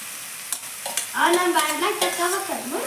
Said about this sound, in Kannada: ಗ್ಯಾಸ್ ದೊಡ್ಡಿಟ್ಟು ಇವನೇನು ಫ್ರೈ ಮಾಡಿದ್ನೆಲ್ಲ ಇವನ್ನ ಹಾಕ್ಬಿಡ್ತೀನಿ ರೀ.